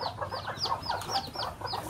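A hen clucks repeatedly in short, rhythmic bursts, close and fairly quiet, on a small poultry farm, with no talking.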